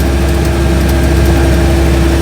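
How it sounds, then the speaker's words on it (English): The small, balanced flat-twin engine of an Invacar runs at a steady idle, close and loud. It gives a constant low drone with a faint hum and no talk. "A beautifully balanced little engine, very much like a 2CV engine, although it perhaps more accurate to describe it as half a Beetle engine"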